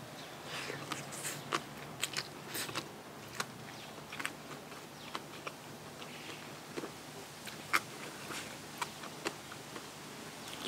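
Large shrimp being bitten and chewed up close, a string of sharp crunchy bites and smacking chews at an uneven pace over a low background, with no talking.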